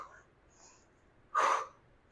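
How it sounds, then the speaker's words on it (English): One sharp, forceful exhale during a full-body HIIT workout crunch, a short breathy burst standing out from quiet room tone after faint earlier breaths. "I'm exhaling during the exertion."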